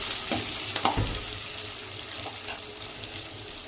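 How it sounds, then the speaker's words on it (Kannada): Chopped onion frying in a pan at the start of an okra fry, giving a steady close sizzle with a few clinks and stirring sounds, without speech. "ಆ ಈರುಳ್ಳಿ ಸಮ ಹಾಕ್ತೀನಿ. ಇದು ಚೆನ್ನಾಗಿ ಸ್ವಲ್ಪ ಫ್ರೈ ಆಗಲಿ."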